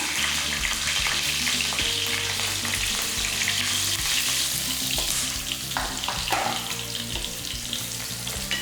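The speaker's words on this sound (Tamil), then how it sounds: "நல்லா பூண்டு வந்து நல்லா பொறிஞ்சிக்கிட்டு இருக்கட்டும்" Crushed garlic cloves and curry leaves fry in hot oil for a dry fish kuzhambu, giving a dense, continuous sizzle and crackle close to the pan, with occasional stirring clatter and no talk.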